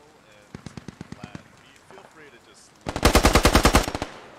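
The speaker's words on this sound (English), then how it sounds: "Oh, there they are, start firing!" Gunfire in the tactical shooter Squad: a short rapid burst of automatic shots, a brief lull, then a louder, denser second volley of sharp cracks with a trace of voice underneath.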